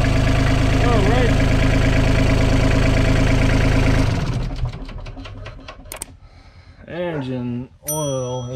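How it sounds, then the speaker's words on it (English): A small Isuzu 3LD1 three-cylinder diesel engine idles steadily and loudly for about four seconds, then cuts off, leaving a quieter stretch where a voice talks close by. "We have to warm up the engine first before dumping the engine oil."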